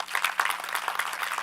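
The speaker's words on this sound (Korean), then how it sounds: "여러분 저 격려의 박수 부탁드리겠습니다." Brief, fairly faint applause from a technology conference audience, a dense patter of many hands clapping at a steady level.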